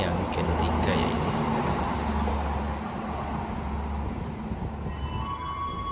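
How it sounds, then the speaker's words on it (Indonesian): Argo Dwi Pangga New Generation train with executive and luxury carriages at Purwosari station, a loud continuous rolling rumble of wheels on rails with faint high squeals and a spoken commentary over it. "Langsung di stasiun Purwosari, kereta Argo Dwi Pangga New Generation membawa 8 buah gerbong eksekutif dan 3 buah gerbong luxury."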